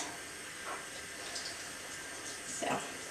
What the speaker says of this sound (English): I'll just rinse the brush off really well under the water